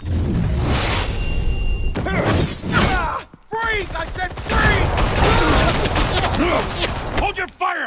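Gunfire in the Batman Telltale Series video game, sharp shattering bursts and thuds in a chaotic scene with mechanical clatter and whooshes, loud and close, with voices shouting over the action.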